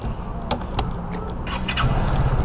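A 2025 Vespa Sprint Tech 150 scooter gives a few clicks and button taps, then its engine starts into a low, steady idling rumble that grows through the final second, close and fairly loud.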